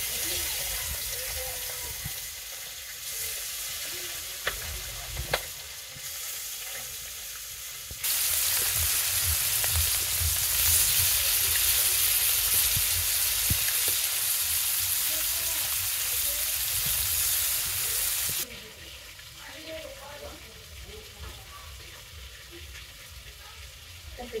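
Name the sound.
small fresh fish frying in a pan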